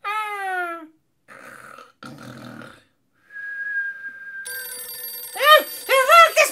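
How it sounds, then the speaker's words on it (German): A toy-scene telephone rings in short bursts that alternate with gaps and other cartoonish sound effects, heard fairly clearly and alone without talk. "Oh, das Telefon."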